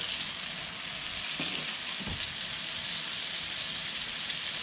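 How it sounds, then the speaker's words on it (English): Triggerfish fillet sizzles steadily in a pan as butter is ladled over it, a dense hiss with a couple of soft spoon touches, close and unbroken. "I'm ladling the butter"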